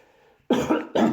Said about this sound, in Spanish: Se me vino la tos.